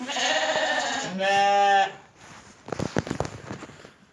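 A sheep gives one drawn-out bleat close by in Reşadiye, Tokat, Turkey, followed by a second sharper call, then scuffling and shuffling noises from the flock.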